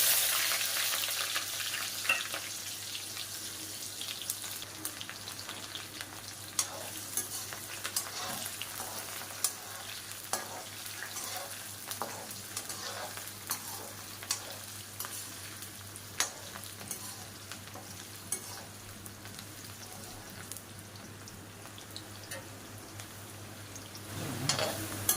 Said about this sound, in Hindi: और ये मेथी दाना, ये जो प्याज है ना ये वो डाल दूँगी छोक में।